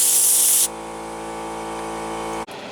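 Compressed air from a workshop compressor blasts residue out of a ham radio reference crystal assembly, a loud steady hiss for over half a second, then dropping to a quieter sustained hum before a brief cutoff near the end.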